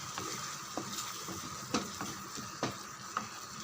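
Steady sizzling of food frying in a pan, with occasional scrapes and clinks of a spoon stirring, close and continuous.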